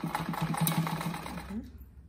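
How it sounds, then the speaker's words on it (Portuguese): A sewing machine stitching a seam along the edge of a rug, a close, rapid mechanical whirring buzz that runs steadily then stops, with someone talking over it. "Passar uma costura aqui bem na pontinha, depois eu passo mais uma aqui do ladinho"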